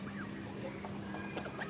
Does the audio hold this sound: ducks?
yes